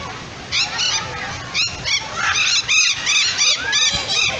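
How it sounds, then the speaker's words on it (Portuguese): Many free-flying birds at BioParque do Rio zoo let out repeated shrill squealing calls in quick bursts, some loud and near, others overlapping, over a low outdoor murmur. "Mas são muitos pássaros,"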